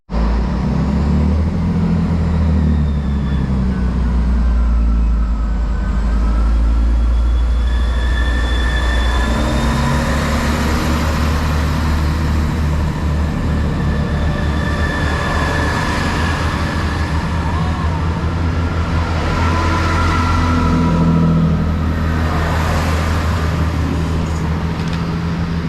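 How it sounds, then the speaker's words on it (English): Chiltern Railways diesel train pulling away from the quiet Islip station on the Oxford line, a steady loud engine drone with rising and shifting tones that carries on throughout without talk. "So there goes the 1457 Chiltern Railway service to Oxford from London Marylebone"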